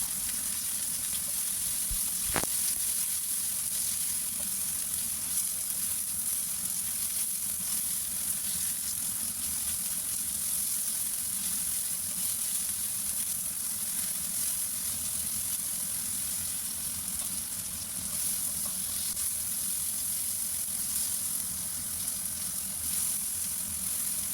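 Tomato and squid adobo fries in a pan, a steady unbroken sizzle running throughout with faint stirring beneath and one brief sharp click early on.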